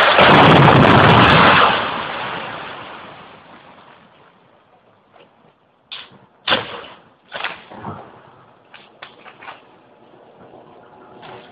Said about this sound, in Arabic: صاروخ هذا صوت تفكيك الدار